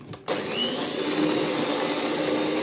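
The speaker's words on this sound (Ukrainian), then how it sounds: "І зараз зіб'ємо яйця" A steady electric motor whirs continuously after a brief click, like a mixer running at constant speed close by, an electric mixer beating eggs.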